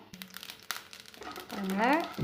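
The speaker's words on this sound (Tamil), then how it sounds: "கடுகு நல்லா பொரிய ஆரம்பிச்சிருச்சு" Mustard seeds splutter in hot oil in a pan, giving scattered sharp crackles and pops, followed by a voice speaking over the sizzle near the end.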